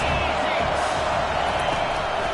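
A college football stadium crowd roars steadily and loudly during a big third-down defensive play, a dense continuous wash of cheering with no breaks.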